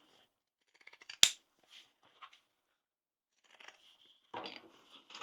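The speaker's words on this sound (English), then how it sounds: "Again, trim down our seam." Fabric scissors trim the seam allowance on a sewn crossbody bag: one sharp, close snip, then a few softer scattered cuts and some rustling of cloth, separated by quiet gaps.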